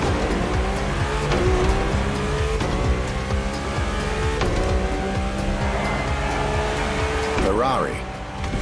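A Ferrari LaFerrari is driven in The Crew Motorfest video game, its engine howling loudly and rising through the gears with brief tire squeals, while a voice narrates over the car throughout.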